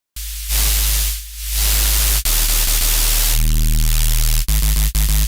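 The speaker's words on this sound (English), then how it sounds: "Distortion" A distorted synthesizer patch built from a sine wave and white noise: loud, harsh buzzing hiss with steady tones, cutting in and out in bursts with abrupt stops and restarts.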